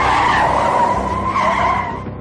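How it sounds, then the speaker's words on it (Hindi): A police van skids hard with a loud, sustained tire squeal as it brakes suddenly to a stop, the screech fading slightly toward the end. "रास्ते में जाते जाते अचानक गाड़ी रुकी"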